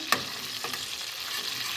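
Close, continuous sizzling of tomato frying in a pan for bean soup, with a sharp scrape of stirring at the start and softer stirring after.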